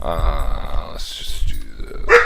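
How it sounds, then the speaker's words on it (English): A dog growls and barks in a few brief bursts nearby while someone talks over it. "Sorry about the dog."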